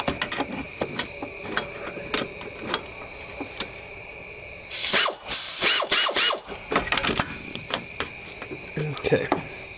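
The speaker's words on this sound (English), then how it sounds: "I'm gonna run it down with air because it's just so difficult to get to" An air ratchet running down a bolt on a Lexus ES330 alternator in an engine bay, sounding as a loud burst of whirring and clattering in the middle, with mechanical clicks and tool handling before and after.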